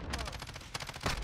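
RAM-7 assault rifle fire in Call of Duty Modern Warfare multiplayer, a rapid close burst of automatic shots in a tight, even rhythm, loud and steady for just over a second.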